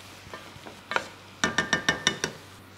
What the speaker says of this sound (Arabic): وحستمر هلأ بتشويح الدجاج مع البصل